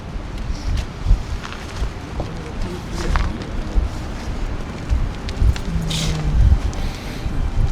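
Gusty wind buffets the microphone at an outdoor graveside service in Edmonton, Alberta, with a low, rumbling roar that rises and falls, and faint voices sit underneath.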